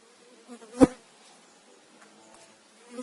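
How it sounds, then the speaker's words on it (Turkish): Honeybees on hive frames during autumn colony care, a soft, close buzzing hum with one brief louder swell near the start and faint drifting drones around it. "O yüzden arılarımız burada toplanıyorlar."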